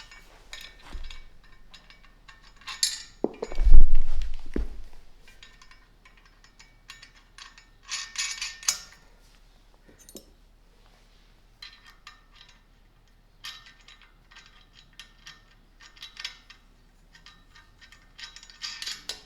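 Nuts being fitted and tightened by hand onto a trap bar, with scattered metallic clinks, ratcheting and scraping in short bursts separated by quiet gaps, close and clear.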